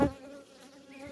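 Honey bees from a colony that wintered on three frames buzz close by at the hive, a steady insect drone after a brief louder thump at the start.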